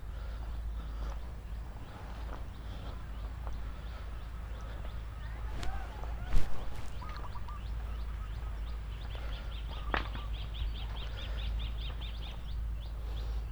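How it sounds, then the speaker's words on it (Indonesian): Wild birds chirping in a park around a historic statue site in Kediri, faint repeated tweets over a steady low background hum, with brief louder knocks in between. "Masih suara burung liarnya masih kental banget, keren."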